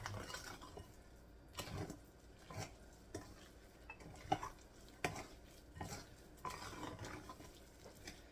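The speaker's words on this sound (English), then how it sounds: "I had to stir up the granola" Granola being stirred in a pan while baking oatmeal bread, a series of soft, quiet scrapes and clinks of a spoon against metal, evenly spaced and close.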